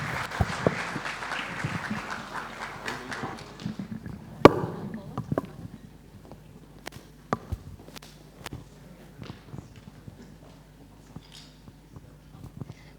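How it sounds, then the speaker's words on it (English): Applause from a conference audience, a burst of clapping that fades within a few seconds, followed by scattered sharp claps, knocks and footsteps in a quieter room. "Let's give them a round of applause again."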